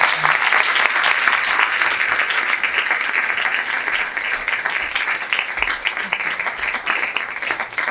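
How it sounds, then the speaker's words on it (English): Audience applause fills the room at a storytelling event, steady and sustained for several seconds, with dense clapping and no voices over it. "Let's have another round of applause for our storytellers."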